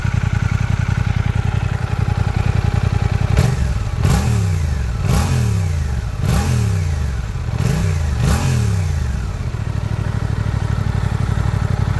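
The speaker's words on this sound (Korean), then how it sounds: "시원시원하게 터지는 감각적이고 날카로운 배기음은 뇌리에 오래 남아있을 정도인데요" Suzuki GSX-8S naked motorcycle with a parallel-twin engine, its stock underslung short exhaust idling, then snapping through five sharp, quick throttle blips before settling back to a steady idle, close and loud.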